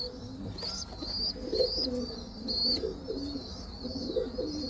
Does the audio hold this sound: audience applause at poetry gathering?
no